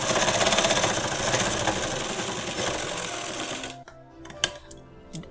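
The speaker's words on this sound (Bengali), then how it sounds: "এবার সেলাই করছি পালাজোর মতোই।" A sewing machine runs fast and steady while stitching fabric for sharara pants, then stops, followed by a few sharp clicks and handling noises close by.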